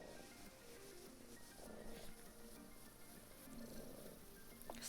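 A cat purrs softly and steadily close by beside a computer keyboard, a low continuous rumble with faint rustling.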